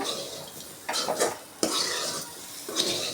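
Elephant yam fry (karunai kizhangu varuval), sprinkled with curry leaves and coriander, is mixed in a pan, making several distinct scraping and clattering strokes over a light sizzle, close by and without speech.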